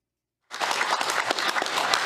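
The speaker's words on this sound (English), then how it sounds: "many in the room applauded her actions" After a half-second of silence, a roomful of people bursts into sustained applause at a political hearing, dense steady clapping that stays loud and even to the end.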